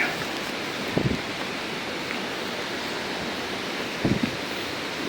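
Palali waterfall in Malinao, Albay, Philippines, a steady broadband rush of falling water heard from the entrance of the falls, loud and unbroken, with a couple of brief thumps from handling noise.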